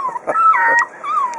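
A puppy whimpers and whines close by, a few thin high-pitched cries and short yelps in quick succession.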